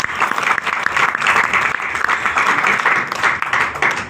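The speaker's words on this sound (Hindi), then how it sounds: "तो एक बार जोरदार तालियां उनकी।" Audience applause at a business plan presentation, a loud, dense, sustained round of clapping from a crowd that continues throughout.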